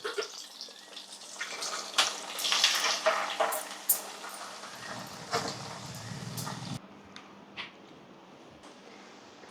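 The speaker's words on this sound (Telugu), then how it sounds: "రొయ్యలు వేగుతున్నాయండి." Prawns fry in peanut oil with a dense crackling sizzle, close and moderately loud, punctuated by scraping clicks, then settling to a quieter steady hiss with no talking.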